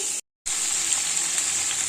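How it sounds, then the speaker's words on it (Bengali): Potato and pointed gourd fry in a pan with a steady, close sizzle that cuts out briefly near the start and then resumes at an even level, with no talking. "এখানে আলু পটল ভাজা বসিয়েছি"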